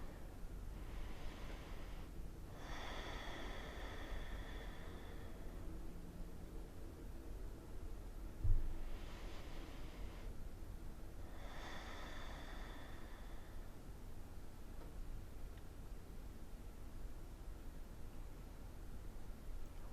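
Slow, deep breaths during a yoga balance pose, two long airy inhale-exhale cycles heard faintly up close against a quiet background hiss, then fading into near silence.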